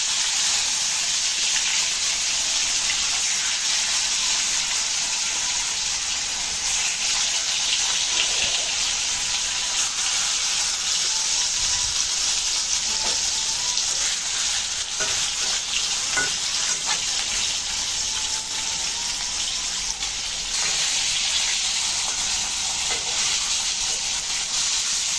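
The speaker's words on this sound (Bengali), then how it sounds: "মাছ ভালো করে ভেজে নেওয়া হচ্ছে।" Rohu fish sizzles in hot oil, a dense, steady crackling hiss with occasional pops, close up and continuous throughout.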